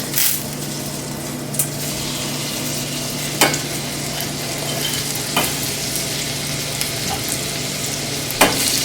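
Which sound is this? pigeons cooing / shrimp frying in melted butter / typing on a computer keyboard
shrimp frying in melted butter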